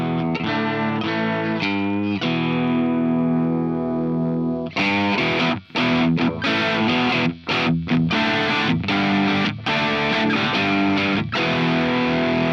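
A nearly woodless electric guitar with a left-handed Telecaster bridge pickup drives a Marshall amp in a loud, bright, gritty tone, opening with ringing chords before choppy, fast strummed passages with short breaks.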